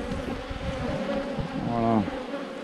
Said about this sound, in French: on va secouer les jeunes abeilles